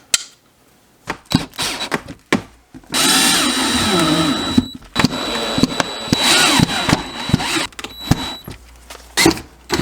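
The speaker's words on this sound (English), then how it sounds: "Now I just put my screws in my bracket, line them up, and drill them in." A power drill drives screws into a bracket on a custom desk in a mobile home living room. Loud whirring bursts of varied length start and stop with short gaps between them, and the sound is close to the listener.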